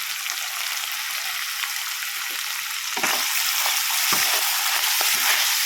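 Curry leaves and onions frying in oil, a bright continuous hiss of sizzling that grows slightly louder midway, with a few stirring knocks, close by and without voices.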